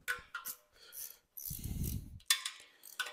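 A hand socket wrench clicks and ratchets while loosening on a Mitsubishi 4G15 turbo engine, short close mechanical bursts with a brief heavier grinding rattle in the middle.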